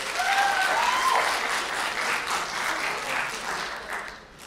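An audience at a voice actors' conference at a games show applauds, dense sustained clapping that swells and then slowly fades toward the end.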